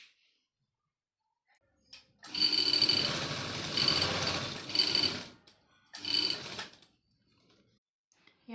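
A sewing machine stitches around the neckline of a South Indian matka-style blouse, running in a loud steady burst of about three seconds, pausing briefly, then a shorter second run, with quiet between.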